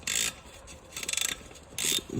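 A socket ratchet clicks in three short bursts, tightening the oil drain plug on a Yamaha Raptor 700 ATV, fairly quiet and close with pauses between the turns.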